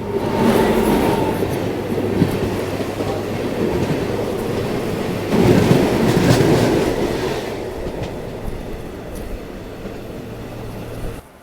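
An express train, the Jaynagar–New Delhi Swatantrata Senani Express, passes close by with a sustained loud rumble and wheel clatter, swelling briefly midway before easing off as the coaches roll past.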